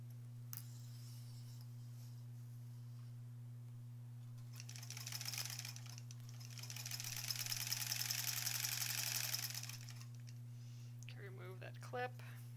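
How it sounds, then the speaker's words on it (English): A sewing machine stitches the back of a granny squares quilt in a fast mechanical whir lasting several seconds, preceded and followed by quieter handling noises over a steady electrical hum. "sewing that piece"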